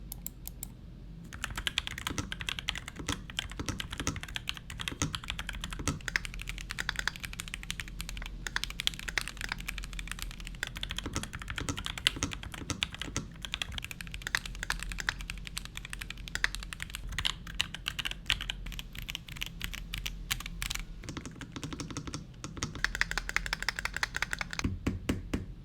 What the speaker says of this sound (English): Now there's a little typing test for you.